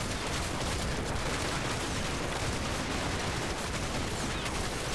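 Continuous crackling World War II gunfire and distant booms from the video game Combat Mission: Battle for Normandy form a dense, steady barrage with no pauses, like a loud battle scene.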